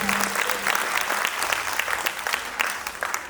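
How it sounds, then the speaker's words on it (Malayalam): An audience claps steadily at a carnival stage show, a dense, sustained round of applause close to the microphone with no voices over it. "നല്ലൊരു കൈയടി കൊടുത്തേ."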